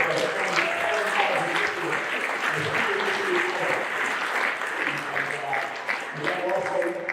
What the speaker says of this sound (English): round of applause for all you guys out there